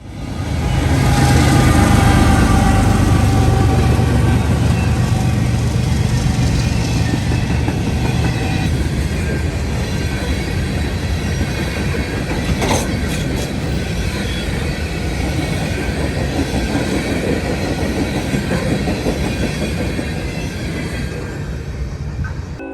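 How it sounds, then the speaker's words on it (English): An ES44DC diesel locomotive hauls freight train 179 uphill out of London, Ohio, its engine laboring in a loud, continuous rumbling drone with steady rail noise, gradually easing slightly as the train passes. "an ES44DC, sounding like he's giving it all he can to get 179 up the hill out of London"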